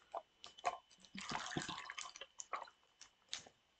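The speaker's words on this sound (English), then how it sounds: "Let's pour us a drink up right now." A drink is poured into a glass with a soft splashing trickle and a few drips, close up and fairly quiet, with no talking.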